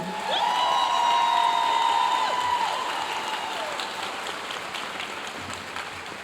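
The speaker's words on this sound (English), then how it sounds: "Let's give them another big round of applause for all they do." Warm round of applause at a school awards ceremony honouring staff, a crowd clapping steadily with a few whoops and a sustained tone over the first seconds, gradually easing but continuing to the end.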